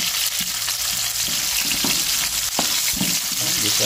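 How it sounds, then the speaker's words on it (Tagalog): Onion and chili sautéing in a hot pan, a steady loud sizzle broken by repeated scrapes and taps of a spatula stirring close up. "Gisa-gisa lang po natin."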